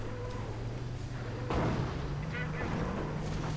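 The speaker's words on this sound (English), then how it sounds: "Oh, another firestorm, more Nebelwerfer fire, lots of rockets" Nebelwerfer rocket artillery fires in a WWII strategy game, a sudden loud whooshing burst followed by a rushing, crackling salvo over a constant low battlefield drone, with a voice commentating faintly.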